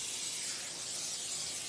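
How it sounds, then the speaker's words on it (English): Pam cooking spray hissing onto parchment paper in a home kitchen, one steady close spray lasting throughout. "I like to use parchment paper and then put the Pam on the parchment paper"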